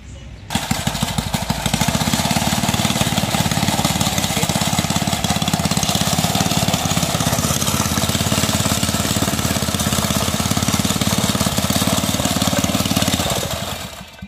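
A small portable compactor engine catches after a pull-start and keeps running, a loud, fast, steady single-cylinder putter that stops abruptly near the end.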